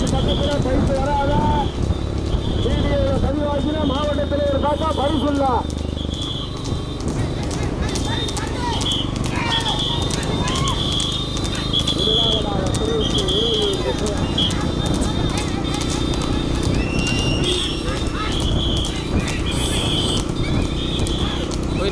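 Racehorses galloping in a small-horse race at Thirukattupalli in Thanjavur district, steady hoofbeats under continuous loud commentary and crowd noise, with a whinny early on.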